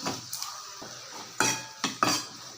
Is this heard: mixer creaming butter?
no